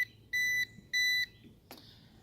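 Two bright, even electronic beeps with a short gap between them come from a Ruko F11 Pro drone controller as it connects, followed by a single sharp click.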